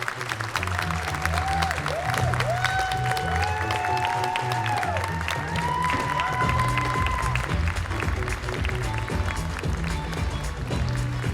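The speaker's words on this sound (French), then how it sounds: "Je vous demande d'applaudir très fort Boris Rollinger" An audience at a dubbing-actors conference at a Toulouse convention applauds a voice actor, producing sustained, moderately distant clapping that stays steady throughout.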